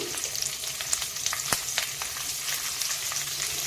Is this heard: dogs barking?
no